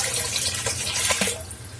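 Water pouring into a container for a water-level indicator made with a pen shaft and plastic ball, a close, steady splashing stream that thins out near the end.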